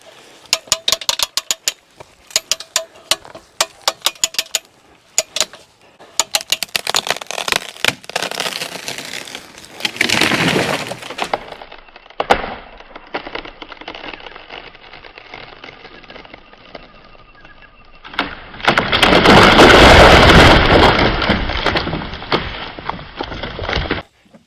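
A tree with a hinge cut in a woodyard, pushed over with an RH Pusher: scattered sharp cracks and creaks of wood build up, then a louder, longer crash as it falls, with no talk.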